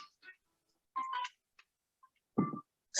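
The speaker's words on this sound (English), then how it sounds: "phone going off" A mobile phone goes off during a local council meeting, short bursts of electronic tones in quick succession with silent gaps, fairly close and clear.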